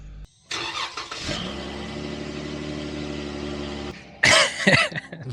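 A Jeep Wrangler's 3.6-liter Pentastar V6 cranks and catches, settling into a steady idle for a few seconds before a short burst of noise cuts in near the end.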